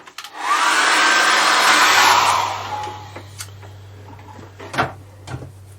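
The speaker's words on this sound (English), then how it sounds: "I'm going to dry that now with a hairdryer" A hairdryer blows loudly onto an acrylic seascape painting for about two seconds, then its roar fades, followed by a few scattered knocks and clicks.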